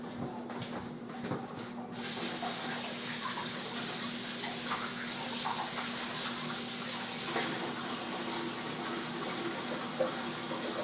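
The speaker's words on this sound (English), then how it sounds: "Let me rinse my hands." Tap water runs steadily in a kitchen while hands are rinsed, a faint hiss with some clatter at first that smooths into an even rushing flow, with no talk.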